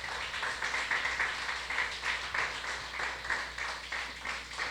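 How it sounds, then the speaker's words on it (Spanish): Church congregation applauding in a sustained, moderately quiet wash of clapping with rhythmic swells, no voices standing out. "Denle un aplauso al Señor."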